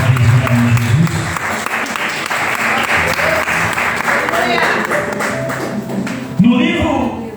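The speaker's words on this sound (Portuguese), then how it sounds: "Você aplaude isso assim, mais uma vez, em nome de Jesus" Church congregation applauding together at a Sunday service, a dense, steady wash of clapping from many hands lasting several seconds, with some voices and a thump near the end.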